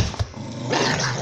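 A Staffordshire bull terrier growls while chewing a tennis ball, a close, steady rumbling growl with mouthing noises running through most of the moment, no talking.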